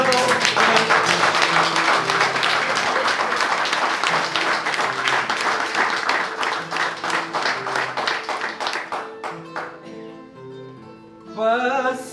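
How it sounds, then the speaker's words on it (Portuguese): Crowd claps loudly for two folk cantoria singers at a Bodo de Santa Bárbara festival on Terceira, dense clapping over sustained instrumental tones that thins and fades toward the end before a voice starts speaking. "agora vou pedir bem alto palmas para os"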